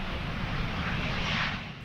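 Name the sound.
Messerschmitt Me-262A jet fighter flying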